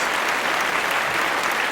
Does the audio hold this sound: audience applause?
yes